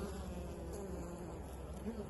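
Honey bees, including drones, hum densely around beehives in early August, a close, steady buzzing swarm that fills the whole moment.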